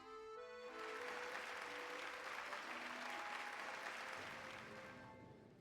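Crowd applauding in the Hollow Knight video game, a loud, dense wash of clapping that swells after a short musical start and holds steady throughout, with game music tones underneath.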